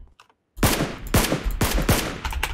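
Gunfire in PUBG Lite, including a VSS rifle, comes as a burst of about five sharp, loud shots after a brief silence, spaced irregularly with echoing tails, and nobody speaks over them.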